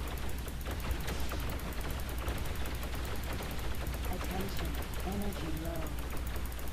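Spaceship weapons in X3: Terran Conflict fire at a Xenon Q. The shooting is a dense, unbroken stream over a constant engine-like rumble, and short tonal blips surface near the end.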